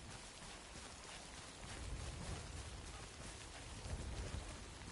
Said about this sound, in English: if I can make the rain stop